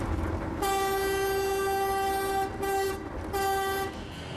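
A loud train horn blasts in two long sustained tones, cutting off briefly between them, over a steady rumble of the locomotive, sounded from the cab.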